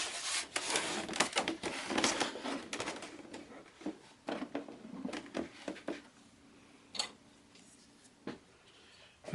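Screws are driven into the foam rudder of a model airplane, giving close, quiet rubbing and creaking scrapes with scattered ticks, busy at first and thinning to isolated clicks.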